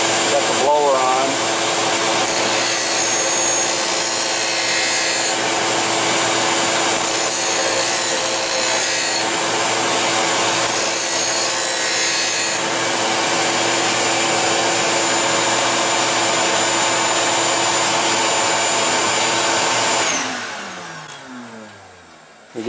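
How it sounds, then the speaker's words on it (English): A skate sharpening machine runs with its blower on, a loud sustained whir and grinding hum that holds steady, then spins down and fades near the end. "I'm going to kick the machine on, and then got the blower on."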